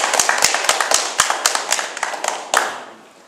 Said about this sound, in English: we should really give everyone a round of applause here for supporting us